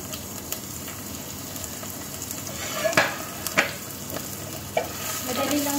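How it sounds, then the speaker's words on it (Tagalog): Garlic frying in oil in a home kitchen, with a steady low sizzle and a few sharp spatters and stirring clicks over several seconds, no talking. "Ayan, unahin natin yung bawang."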